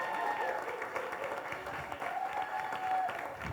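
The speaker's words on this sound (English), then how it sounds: "Let's give a round of applause to Jenny Wemert." Audience applause at a women's real estate panel session, a moderate steady patter of clapping from a crowd that holds for several seconds, heard from some distance in a large room.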